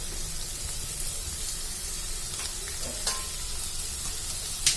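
Chopped onions sizzle steadily in a hot pan for a prawn coconut roast, with broad continuous frying hiss and occasional soft scrapes and clinks of stirring, close and alone with no voices.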